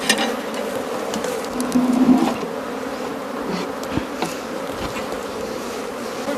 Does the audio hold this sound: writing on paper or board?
no